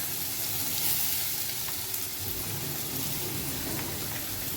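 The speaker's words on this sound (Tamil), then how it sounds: "மிளகு ஜீரகம் எல்லாம் அரைச்சி வச்சுருக்கோம் அதெல்லாம் போட்டு இதில் வதக்கிக்கிறோம் நல்லா" A ground pepper and cumin paste with asafoetida sizzles and sautés in a pan for a rasam, making a dense, loud, rain-like crackle that carries on unbroken from start to finish.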